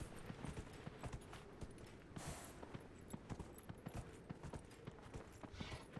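A mount's hooves clip-clopping steadily while being ridden in a fantasy role-playing game, faint, rhythmic and continuous, with occasional louder thuds mixed in.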